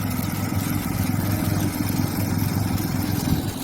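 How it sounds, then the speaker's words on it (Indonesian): A rice thresher machine runs in a paddy field at harvest, giving a loud, continuous mechanical drone with a steady low rumble and no pauses or voices. "mesin thresher sedang bekerja."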